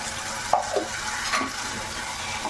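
Ground spice paste being stirred into a potato bhaji for a fasting meal in a pan, giving soft scraping strokes and faint sizzling at moderate level, with a couple of clearer spoon scrapes and no talking.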